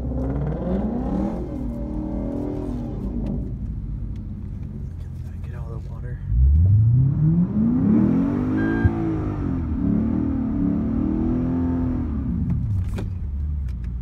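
Two Lexus IS F cars racing, engines droning steadily, then a loud nearby car accelerating hard with a sweeping rising pitch from mid-clip, revving through gears with continuous roar.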